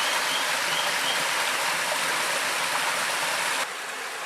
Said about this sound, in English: Well, the water's certainly flowing through.